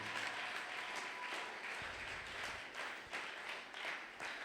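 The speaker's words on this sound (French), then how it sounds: "Est-ce que tu peux acclamer très fort?" A church congregation at a Sunday thanksgiving worship service claps and applauds, a steady crackle of many hands with small swells, moderately distant and fairly faint.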